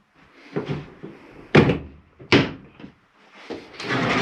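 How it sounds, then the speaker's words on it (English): Several sharp RV cabinet-door snaps and thuds, close by, separated by short pauses, with light rattling between them, inside a 2016 Pinnacle 36FBTS. "Make sure all these doors are snapped closed properly"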